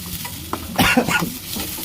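Tomatoes sauté in a pan for an almond fish curry, a soft sizzle with a brief burst of stirring, close and alone.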